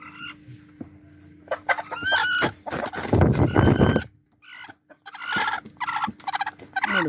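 An Asil hen clucks and calls in bursts of varying loudness, close by, with pauses between runs and a steady low hum underneath.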